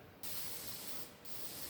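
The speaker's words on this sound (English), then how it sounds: "All right, Battle, new can of spray paint." Spray paint can hissing onto engine headers in two close, steady bursts separated by a short pause, with no voices.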